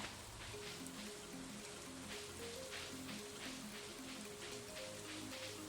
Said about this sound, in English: The green rain has descended.